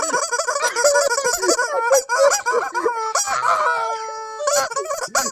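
A chicken squawks loudly and close by, in a rapid run of harsh, honking clucks and shrieks broken by short gaps, with no talking over it.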